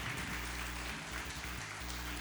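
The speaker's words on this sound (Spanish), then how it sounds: "Dale un fuerte aplauso a nuestro Señor Jesucristo." A church congregation claps steadily throughout, a dense wash of applause layered over low sustained musical tones.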